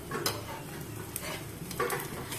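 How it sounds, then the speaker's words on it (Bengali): Mughlai paratha fries in oil in a pan while a spatula presses it down, giving a soft hiss with a few scraping pushes. "ঠিক এরকম ভাবে চিপতে থাকবে, চিপে চিপে তোমার সেকবে।"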